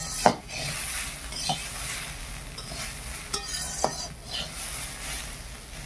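Potatoes frying in oil in a pan while being stirred, a continuous nearby sizzle punctuated by sharp clinks and scrapes of a utensil against the pan every second or so.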